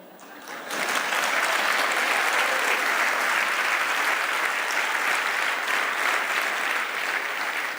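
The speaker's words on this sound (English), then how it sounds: "thank you for the applause" Sustained audience applause fills a TEDx talk hall in Verona, starting as a quieter ripple and swelling within a second into a dense, even wash of clapping that holds steady throughout.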